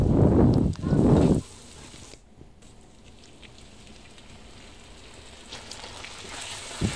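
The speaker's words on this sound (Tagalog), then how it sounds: "Igisa na natin ang ating bawang." Garlic sautéing in oil in a frying pan for pork afritada, a soft steady sizzle that slowly swells after two loud low thumps at the start.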